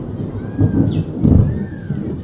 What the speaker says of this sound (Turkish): Hocam korkar mısınız gök gürültüsünden?